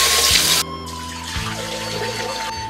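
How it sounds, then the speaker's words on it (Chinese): Fresh garlic scapes are rinsed under clean running water from a tap while cooking, a steady close splash that briefly stops and changes tone partway through. "然后我们准备一把新鲜的蒜苔，然后用清水把它洗干净。"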